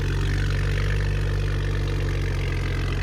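A 2022 BMW M340i 3.0L turbo inline-six with a downpipe-back Valvetronic exhaust, valves open, idling with a steady, deep droning rumble that stays constant and loud throughout.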